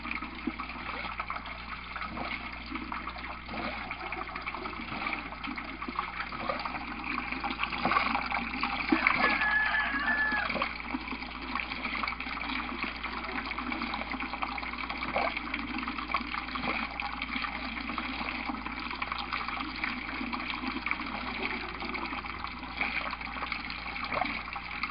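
Water gurgles and splashes steadily from an aquaponics pump that is belching rather than lifting, a continuous low burbling with no voices.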